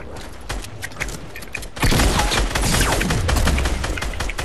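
Gunfire in a multiplayer shooter video game: rapid bursts of shots crackle and thump, growing into dense, continuous loud firing with booming impacts, close and busy.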